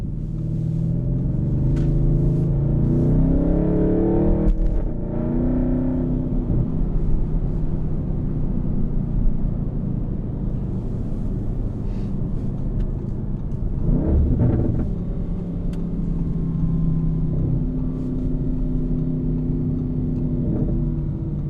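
Cabin view of a 2021 Audi RS6 Avant (C8) fitted with a RedStar exhaust, its deep engine drone rising and falling through revs, with a sharp burst near the middle and steady rumble throughout.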